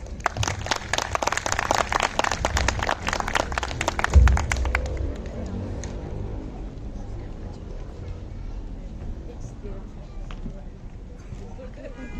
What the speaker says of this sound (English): Kindly welcome them in your loud applause